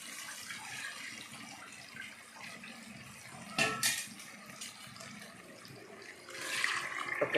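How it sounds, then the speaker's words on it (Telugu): Water poured from a bowl into a cooking pot while preparing rice, a soft running splash with two brief louder pours near the middle and end. "నేను ఈ గిన్నెతో 2 గిన్నెలు నీళ్ళు పోస్తున్నాను"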